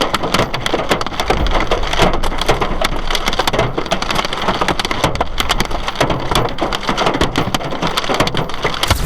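Hailstones pound a car windshield in a Colorado hailstorm, a dense, unbroken barrage of sharp cracking impacts with glass shattering, loud and close inside the vehicle for the whole stretch.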